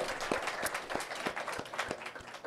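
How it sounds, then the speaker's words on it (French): Audience applause for a cinema hosting a live film-talk show, a steady crowd of clapping hands at moderate level with sharper individual claps standing out throughout. "on peut applaudir aussi le cinéma d'avoir accueilli l'émission"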